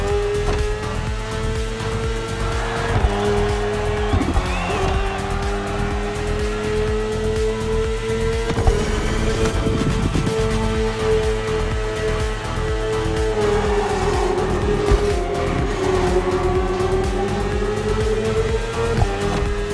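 A BMW S1000RR superbike engine in the racing video game The Crew Motorfest, a continuous high-revving drone that rises and dips in pitch throughout, loud and steady with no talking.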